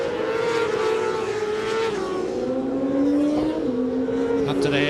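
Race car lapping the Mallory Park circuit in a 2005 Virgin Mobile Cup round, engine droning loud and steady, its pitch sliding down as it brakes into the hairpin, with commentary over it.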